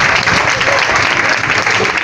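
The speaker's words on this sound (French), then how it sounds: "je vous demande d'applaudir très fort" Loud, continuous applause from an audience at a women's youth association event in Hann Bel-Air, a thick wash of many hands clapping at once, close and sustained throughout.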